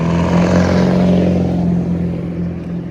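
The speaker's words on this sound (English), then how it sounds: "That guy's proud of his loud truck." Loud truck engine revving close by, a steady heavy rumble held for about three seconds with a slight surge and then easing off, with no voices.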